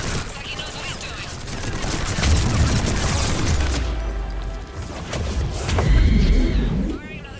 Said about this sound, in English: Firing another salvo.